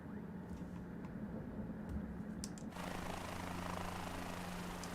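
Helicopter engine in Microsoft Flight Simulator 2020, a steady low rotor-and-turbine drone with a constant hum that turns broader and hissier partway through, continuous with no talk.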